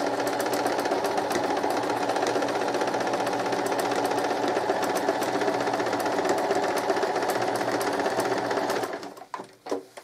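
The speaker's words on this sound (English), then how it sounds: "I'm going to sew from one corner to the other, using that line as my guide." A sewing machine runs a steady, loud, continuous stitch as it sews two fabrics from one corner to the other along a marked line, then stops abruptly near the end with a few small clicks.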